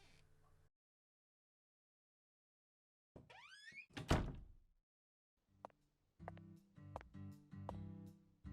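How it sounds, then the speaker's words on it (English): A door opens with a brief thud and creak as a character steps outside in Deadly Premonition 2, a short loud burst after a stretch of silence, followed by tonal game music and sounds. "And out the door."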